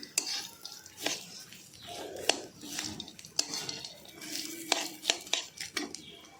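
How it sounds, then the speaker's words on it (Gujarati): Dates and dry fruits being stirred and mixed in a pan for winter laddoos, with repeated close scraping and sharp metallic clinks of a spoon against the pan, fairly quiet and irregular. "હવે તેને આ રીતે આપણે મિક્સ કરી લઈશું"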